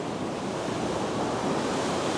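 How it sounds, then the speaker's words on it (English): Ocean waves surging up a beach, a broad steady wash of surf with a slowly building rush, mixed with wind buffeting the microphone, close and continuous. "look at all that water coming up"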